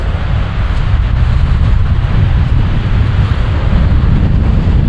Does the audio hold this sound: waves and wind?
yes